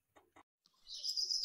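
A bird chirps briefly and high at close range, following two soft short sounds in otherwise quiet surroundings.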